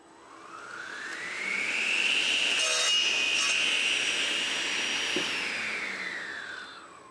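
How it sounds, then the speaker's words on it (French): A combination woodworking machine's saw spins up, cuts through wood with a sustained rising whine, then winds down; one long trimming pass, close and loud. "Je vais commencer par faire une petite coupe de propreté pour m'assurer que le bord ici soit bien perpendiculaire."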